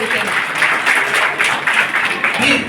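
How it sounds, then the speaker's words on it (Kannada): Steady audience applause at a street vendors' association gathering, many hands clapping together in a dense, even patter that holds its level for the whole stretch. "ತಮ್ಮ ಚಪ್ಪಾಳೆ ಮುಖಾಂತರ ನಾನು ಕೇಳಿಕೊಳ್ಳುತ್ತೇನೆ"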